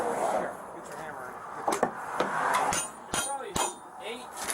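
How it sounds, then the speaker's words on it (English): Sharp knocks of a hammer on a wooden box, several uneven strikes scattered through the clip, close and fairly loud against background talk. "get your hammer."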